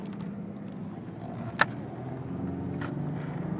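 A 2003 Ford Ranger 4x4 with 83k miles, shifted into low lock, its engine humming steadily at high revs while barely moving, with a brief sharp click partway through and no talk.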